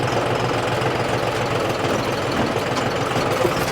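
A John Deere tractor in second gear runs at a low 700-800 rpm over a rough, broken road, its diesel engine chugging loud and close with a steady knocking rhythm and no talk.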